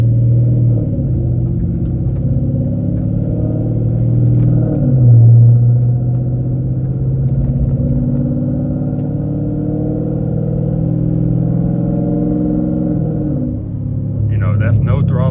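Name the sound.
Dodge Challenger RT engine running in sport mode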